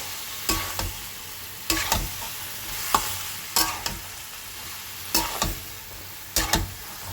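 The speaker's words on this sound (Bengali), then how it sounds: "এবার সয়াবিনটা ভালো করে একটু কষিয়ে নেব" Soybean chunks stir-fried in a pan, with repeated scraping stirs roughly every second over a steady background sizzle, close and alone without talk.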